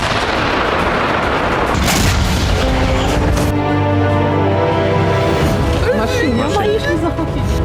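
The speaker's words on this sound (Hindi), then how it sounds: "सीरियल बम विस्फोट" Loud, dense rumbling booms of serial bomb explosions and heavy fire in Donbas, Ukraine, in May 2022, a continuous barrage, with a voice and some tonal sounds mixed in toward the end.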